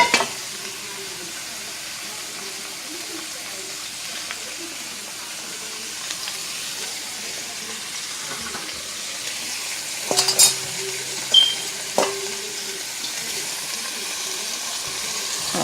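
Steady sizzling of vegetables frying in olive oil in a hot pan, with a few utensil clinks and a brief scrape partway through.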